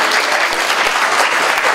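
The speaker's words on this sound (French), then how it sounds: "applaudissez l'Anguichard" An audience breaks into loud, thick applause for l'Anguichard, the many hands clapping together in a continuous wash that stays strong and close for the whole brief stretch.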